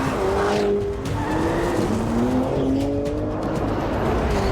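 Two cars of over 1,200 horsepower each, with a Corvette ZR1X among them, launch from a standstill with loud, sustained tire squeal and skidding, engines roaring close by for several seconds.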